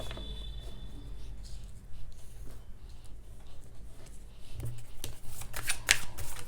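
Tarot cards are shuffled by hand in a quiet room, giving soft repeated riffling and flicking close by. Short bursts build toward the end, with no talk.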